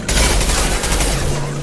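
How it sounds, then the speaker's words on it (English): Heavy gunfire in Mass Effect 2 rattles in a loud, rapid fusillade of overlapping shots and booming impacts, close and continuous throughout. "Taking heavy fire!"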